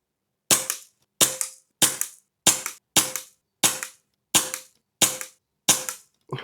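HFT500 air rifle firing pellets downrange, ten sharp evenly spaced shots with short decaying tails, close and loud with no talking.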